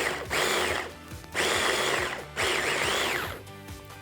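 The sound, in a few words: blender mixing chimichurri sauce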